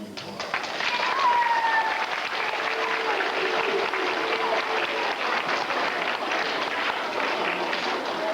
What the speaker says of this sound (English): they get a big round of applause